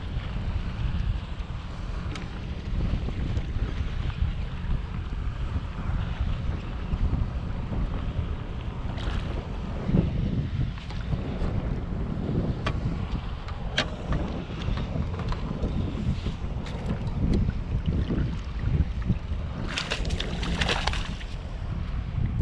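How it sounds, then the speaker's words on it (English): Steady low hum of a kayak trolling motor running on and off at low speed in stormy wind, under constant wind buffeting and water noise with occasional splashes. "this is where I'm just going to start using that trolling motor to compensate for that increase in wind"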